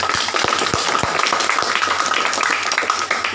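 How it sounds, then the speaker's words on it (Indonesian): Audience clapping at an Indonesian religious gathering, several sharp individual claps at first, then a dense, moderately loud patter of many hands continuing evenly. "Tepuk tangan semuanya."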